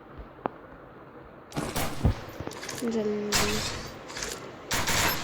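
Gunfire in a ranked Clash Squad shooter video game: after a quiet start, several loud bursts of shots crack out in clusters, close and sharp, with a voice briefly speaking.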